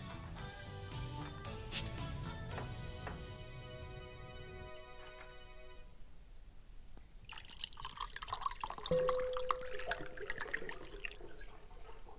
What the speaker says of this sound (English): let's go ahead and try out this Ghostbusters Ecto Thirst Quencher tropical flavor soda